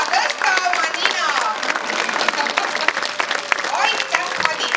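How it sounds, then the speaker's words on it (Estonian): Audience applause and clapping at a senior folk dance festival in Võrumaa, a dense, steady ovation of many hands held throughout, with some crowd voices mixed in. "Meie Madis, teeme talle suure aplausi ja tõsta oma nina."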